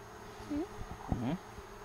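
Honeybees drone steadily around a hive frame during an inspection, a soft continuous buzz close by with a few louder passes, while people talk quietly over it.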